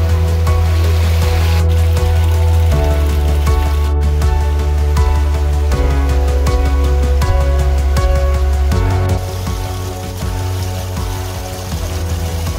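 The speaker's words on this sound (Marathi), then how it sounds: "हे पहा मित्रांनो, धबधबा" A small forest waterfall flows in a steady, loud, close rush of water that continues without a break and eases slightly toward the end.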